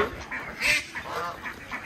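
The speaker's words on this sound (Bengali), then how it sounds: "এখানে হচ্ছে ক্রেস্টেড ডাক আছে, আবার ব্লু সুইডিশ আর ক্রেস্টেড ডাকের মিক্সও আছে, আবার হচ্ছে এখানে গুজ আছে" Ducks and geese call at a mini zoo enclosure holding crested ducks, Blue Swedish and crested crosses, geese and Pekin ducks; a few short nasal honks and quacks sound close by over a short stretch.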